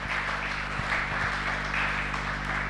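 A church congregation applauds through a worship service, a steady, dense wash of clapping that holds at an even level for a few seconds with no voices above it.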